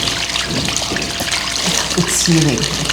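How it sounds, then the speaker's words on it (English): Water from a corner water feature outdoors trickles and splashes continuously beneath people talking. "we have a water feature in the corner."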